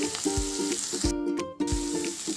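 Chopped kozhuppa cheera (fat spinach) sizzles in a frying pan, a steady close crackle of frying greens with a few soft scrapes and knocks from stirring.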